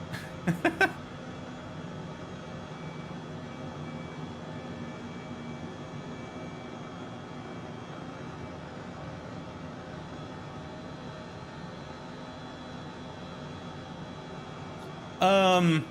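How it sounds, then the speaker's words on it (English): Steady droning whine of an Airbus H135 helicopter engine in Microsoft Flight Simulator, a continuous hum with a constant tonal pitch, broken by brief louder clicks at the start and end. "Airbus H135. It's an add-on that's being developed."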